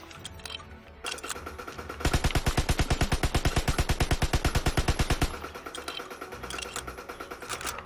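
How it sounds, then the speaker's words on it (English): An M3 Grease Gun submachine gun fires in Call of Duty WW2, a single steady full-auto burst of about three seconds, its rapid evenly spaced shots loud and close, with quieter ambient game sound before and after. "Grease gun."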